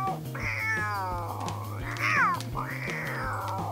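A cat meows three times in a park, drawn-out wavering cries, the middle one higher and more strained, heard clearly over a steady low musical backing.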